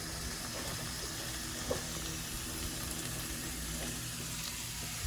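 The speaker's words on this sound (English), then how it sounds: "this is sauteing, then I'm going to add the peppers" Food sautéing in a pan in a boat's galley, a steady low sizzle and hiss running evenly throughout with faint clinks, no talk.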